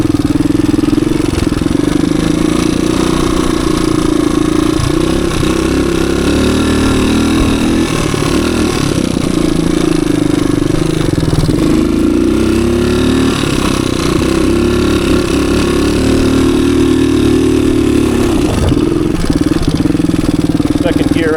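A 1985 Suzuki DR250 dirt bike runs steadily along wooded trails at an easy pace, its engine droning loud and close throughout with small dips in revs, while a rider talks over it.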